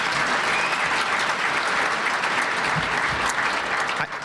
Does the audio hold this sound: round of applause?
yes